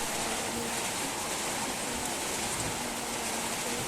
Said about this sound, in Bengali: সকাল থেকে বৃষ্টি নামতেছে